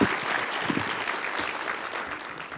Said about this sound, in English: Let's give Ms. Ryan another round of applause,